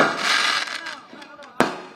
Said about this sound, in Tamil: வெற்றி பெற்ற பிறகு அடிக்கிற வெடியெல்லாம் போய் வச்சுட்டீங்க